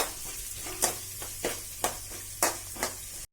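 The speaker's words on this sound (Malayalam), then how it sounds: "ഇത് നന്നായി മൂക്കണം." Sliced onions and green chillies fry in hot oil with a constant close sizzle, broken by about five sharp stirring scrapes at a steady pace.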